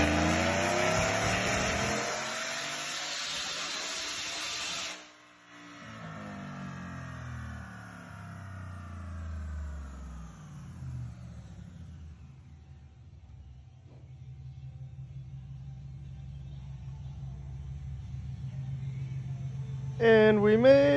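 Supercharged Whipple 2022 Ford F-150 truck running on E85 on a chassis dyno, roaring loud and then cutting off, followed by a falling whine as the rollers spin down and a low idle rumble.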